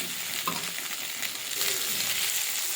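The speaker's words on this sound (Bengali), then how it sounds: "এই যে মাছগুলো ভেজে নিচ্ছি" Rohu fish frying in oil in a pan, a steady bright sizzle running throughout at close range with a few faint stirring sounds and no talking.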